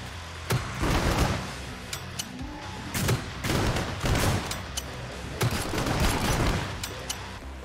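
Repeated pistol shots in the video game Killing Floor 2, a run of sharp cracks in irregular bursts layered over dense, noisy in-game action, loud and close.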